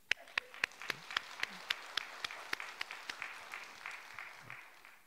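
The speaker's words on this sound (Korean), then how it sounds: "박수." A church congregation breaks into applause during a sermon, a fairly faint, roomy patter of many hands with a few sharper claps standing out, fading toward the end.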